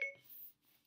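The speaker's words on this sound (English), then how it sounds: "That's my phone." A smartphone voice assistant switching on in a lecture room, giving a short chime of two rising tones at the start, then a softer electronic sweep fading into near silence, with a tiny blip at the end.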